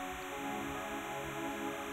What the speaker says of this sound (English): the Sync E will record the timecode directly to your audio track and will sound something like this.